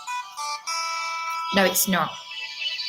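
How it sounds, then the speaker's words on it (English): Phone ringing from an unknown number, a steady tonal ring pattern with short gaps in the first half second, then continuing under a man's nearby speech. "that's again an unknown number ringing"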